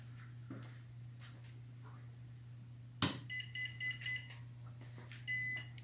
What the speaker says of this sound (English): Those are the beeps saying it's ready